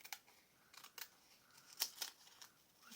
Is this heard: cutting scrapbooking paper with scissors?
yes